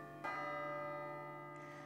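A single stroke of a clock tower bell rings out with a bright metallic strike and a long, sustained humming tone that slowly fades, alone without voices.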